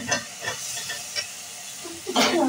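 Fenugreek leaves and cut potatoes drop into a pan of hot, sizzling masala. A steady hiss runs under a few soft stirring scrapes, then a louder burst of sizzle near the end.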